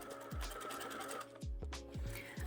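A sewing machine runs an overcast stitch, pattern number 6, with a soft low mechanical whir and regular needle thumps about every half second, quiet and close.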